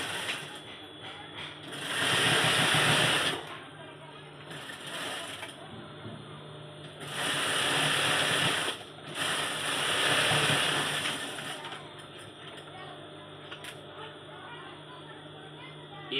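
Domestic sewing machine stitching a folded pleat in fabric, bursts of fast whirring motor noise that start and stop several times, interspersed with quieter handling sounds between runs.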